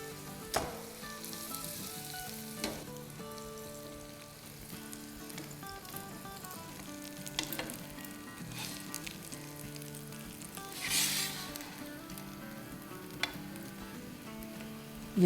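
Potato rolls sizzle steadily in butter in a pan, with soft stirring and scraping clicks scattered through the continuous frying. A brief louder hiss comes near the end.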